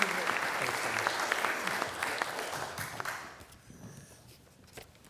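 Audience applause welcoming Ambassador Tom Hubbard at a Korean studies lecture in Bloomington, a steady roomful of clapping that thins and fades toward the end.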